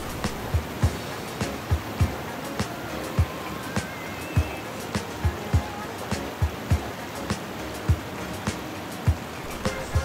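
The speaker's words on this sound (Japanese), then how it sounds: "その勢いが良い滝の水流に乗っていきます。" Rushing waterfall current sweeping a packraft downriver on a small stream below a waterfall with bumpy, water-carved rock, a steady broadband roar of moving water punctuated by regular sharp splashes and knocks, with faint voices.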